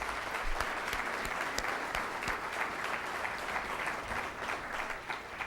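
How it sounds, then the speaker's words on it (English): Sustained applause from a large crowd at a volunteer recognition dinner honoring a CEO, dense and steady throughout, with no voices on top. "Give him a nice round of applause."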